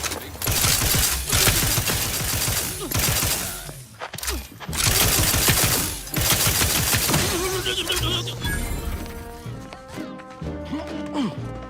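Gunfire in the video game The Outer Worlds 2: dense, loud volleys of shots and crashing impacts fill most of the stretch, then give way to quieter music and game sounds near the end.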